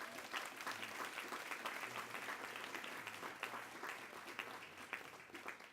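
Audience at a Green Task Force awards breakfast applauding steadily, a dense wash of clapping from a roomful of people that holds throughout.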